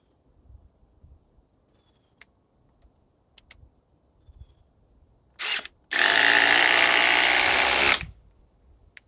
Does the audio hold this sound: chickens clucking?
no